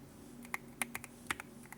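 Quiet, close keystrokes on a Keychron Q5 Ultra 8k keyboard with silk POM banana switches, about a dozen soft clacks in an uneven typing rhythm over faint background hum.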